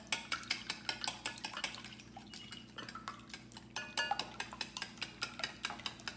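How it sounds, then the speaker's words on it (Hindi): Eggs are whisked in a bowl for French toast, a quick, regular series of clinking strokes of the whisk against the bowl, close and crisp, pausing briefly before resuming in the same steady rhythm. "आसानी से इसको विस्क कर लेते हैं थोड़ा सा अच्छे से"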